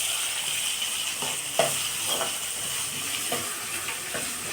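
Lemon pickle is stirred in hot oil in a pan, giving a steady sizzle and hiss broken by several soft scraping strokes of the spoon, close up and with no voices.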